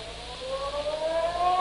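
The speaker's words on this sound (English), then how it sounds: "just as the ferry building siren was announcing 8 o'clock to downtown San Francisco" The Ferry Building siren in downtown San Francisco sounds at eight o'clock, a loud wailing tone that rises steadily in pitch, heard alone.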